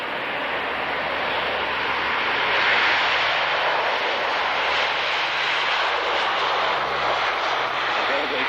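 Hercules transport aircraft of 47 Squadron flying over the Fairford airshow in 1996: a loud, broad propeller-engine roar holding steady throughout, with faint talk beneath.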